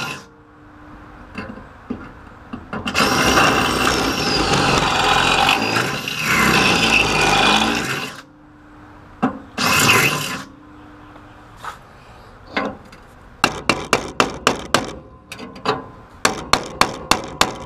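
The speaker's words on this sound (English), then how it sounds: "I'll just drill it out a bigger one." Power drill boring out a hole in the sheet metal of a GM A-body Cutlass during a radiator swap, two sustained grinding bursts followed by short drill pulses and sharp rapid tapping, close and loud.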